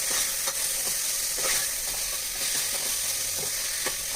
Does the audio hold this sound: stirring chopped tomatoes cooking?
yes